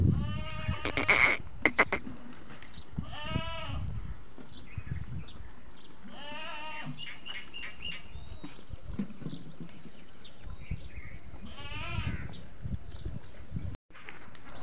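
A goat with a bucket stuck on its neck moves around a farm, giving several bleats and scattered knocking and shuffling sounds, fairly close, with quieter gaps between calls.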